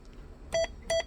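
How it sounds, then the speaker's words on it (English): Roger beep from a President Lincoln 2 plus 10-12 meter CB radio: two short, clean electronic double-tone bleeps, close and clear against a quiet background. "all the Roger beep settings that we had here"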